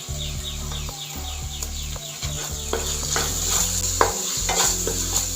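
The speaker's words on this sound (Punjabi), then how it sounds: "ਇਹਨੂੰ ਆਪਾਂ ਚੰਗੀ ਤਰ੍ਹਾਂ ਮਿਕਸ ਕਰ ਲਾਂਗੇ" Spices, black pepper and salt are stirred into a sauce in a pan for farfalle pasta. A spoon scrapes and taps the pan in a steady rhythm over a continuous close sizzle.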